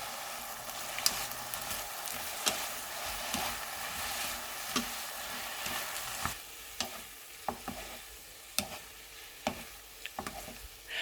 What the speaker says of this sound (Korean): 양념으로는 양조간장 2스푼, 매실청 1스푼, 올리고당 2스푼을 넣어서 섞어줍니다